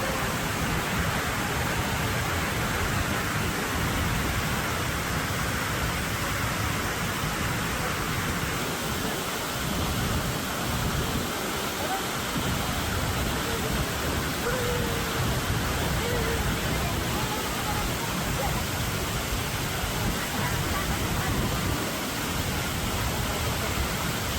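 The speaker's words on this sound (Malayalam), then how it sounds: "ഇതാണ് അമരാട് വെള്ളച്ചാട്ടത്തിൻ്റെ നല്ലൊരു പോയിന്റ്" Amarad Waterfalls at Kattippara roars steadily and loudly, an unbroken rushing wash of water throughout.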